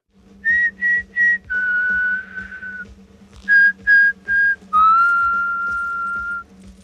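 A clear, melodic whistled tune: three short notes, then a long held one, repeated in two phrases, over a faint low hum and soft ticking.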